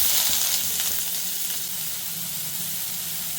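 Chopped onion crackles and sizzles in hot oil, a steady close hiss that eases slightly after the first moment, with no voices.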